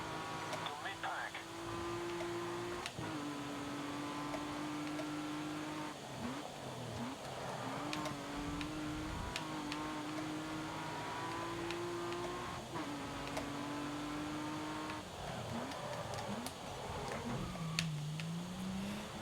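A damaged race car's engine in Grid Autosport drones in repeated rising gear pulls, with rattling and ticking mixed in, and someone talks over it.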